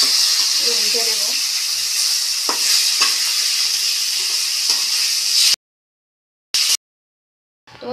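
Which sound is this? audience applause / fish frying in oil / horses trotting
fish frying in oil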